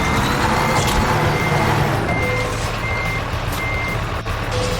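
Reversing beeps from a truck backing up to hook a NASCAR car hauler in American Truck Simulator, a steady evenly spaced electronic beeping over a loud continuous diesel engine rumble.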